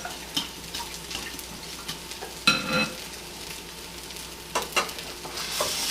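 Strawberry and cream cheese stuffed French toast frying in a pan, a steady soft sizzle with intermittent scraping and clatter from a spatula, close and moderately loud, no voices.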